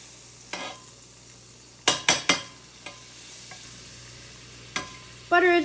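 French toast goes into a pan with melted butter. A few sharp utensil clacks and scrapes come first, then a short burst of sizzling rises near the end. No one talks.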